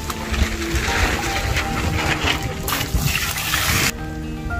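Water is poured into a container for rooting philodendron cuttings, a continuous close splashing gush that runs for several seconds before cutting off abruptly near the end.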